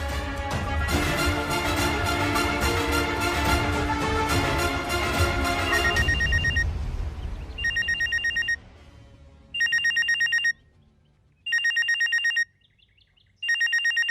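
An unanswered telephone rings in short, evenly spaced electronic bursts, four rings separated by gaps of silence, right after a loud stretch of dramatic music ends.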